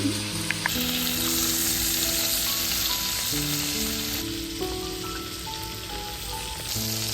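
Prawns fry in hot oil for a coconut prawn dish, a loud, dense crackling sizzle that runs steadily up close, with light spatter and the occasional clink of a utensil.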